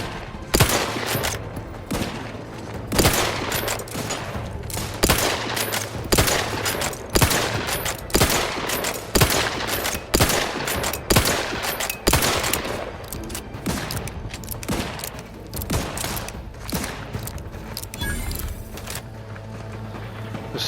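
Rapid gunfire in the video game The Outer Worlds 2, dense bursts of sharp shots and fusillades crackling almost continuously over a low droning hum, loud and close with brief gaps.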